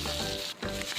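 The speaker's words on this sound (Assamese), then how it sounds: "সেইখিনি মই ভালদৰে ভাজি ল'ম।" Eggs coated in turmeric and salt fry in hot oil in a kadai, giving a steady close sizzle with a brief dip partway through. No one speaks.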